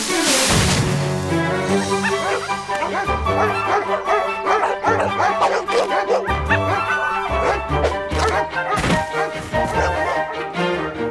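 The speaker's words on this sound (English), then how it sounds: "Now be a good doggy, Frisky, and don't go running off." A cartoon dog gives yipping, bow-wow barks mixed into loud, busy orchestral cartoon music that runs through the whole scene.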